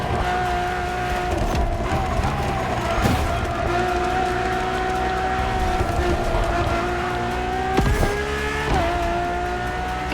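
A Ferrari Enzo supercar driven in Forza Horizon Motorfest, its engine droning loud and steady with rising pitch through the gears, a few sharp shift changes and tire noise, under quiet narration.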